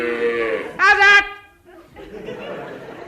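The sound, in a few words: cow mooing in a radio comedy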